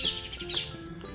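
Small birds chirp overhead in an outdoor garden of potted mint, coriander, fenugreek and spinach, with several bright short tweets over a steady background hum.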